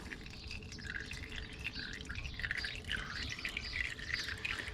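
Old engine oil trickling out of a car during an oil change, a faint continuous dribbling and dripping with light splashy patter.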